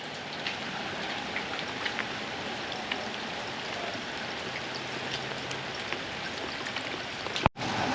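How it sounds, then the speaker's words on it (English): Steady rain falls outdoors, a dense continuous hiss with scattered drops pattering on surfaces and buckets nearby, loud and unbroken, with a brief sharp knock near the end. "Oh yeah, we're getting some good rain."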